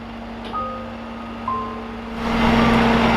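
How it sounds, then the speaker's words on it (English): A tow truck loads an Audi R8 onto its flatbed. An engine idles at a steady hum under occasional sharp beeps, then swells into a louder, fuller roar. "we just got it up onto the flatbed"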